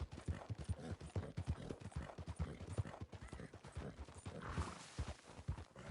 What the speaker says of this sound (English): Showing off my horrific horse riding skills.